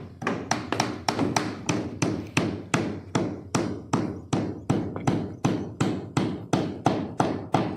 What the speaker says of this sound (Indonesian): Kita lakukan klasi bor, kita paku di atas papan sirip seperti ini.